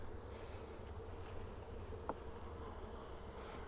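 Honeybees hum at a beehive in Kentucky, a faint, steady insect drone with one brief closer buzz passing by, heard alone at low level.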